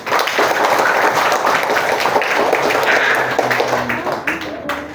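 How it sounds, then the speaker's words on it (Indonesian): Students in a primary school maths classroom clap together, a loud, close burst of applause that continues steadily for several seconds before thinning out, with children's voices mixed in. "tepuk tangan buat dia"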